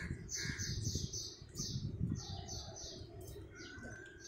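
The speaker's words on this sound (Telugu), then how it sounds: "దానికి అక్కడ కాకులు వస్తుంటాయి." Several harsh crow caws repeat in short bursts over a steady background murmur, moderately close, with a few fainter bird calls mixed in.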